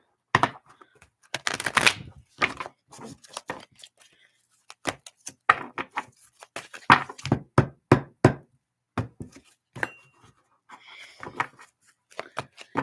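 A deck of cards shuffled by hand during a witchy card reading, bursts of riffling and tapping in irregular clusters, close and fairly loud, with brief pauses between rounds.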